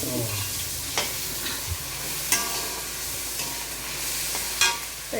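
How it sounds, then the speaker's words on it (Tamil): Onions softening with salt in a pan for a tomato chutney, a continuous close sizzle broken by several sharp spatula scrapes and taps against the pan at irregular intervals, with no voices. "இது நல்லா வதங்கட்டும் சுருளை வதங்கணும்"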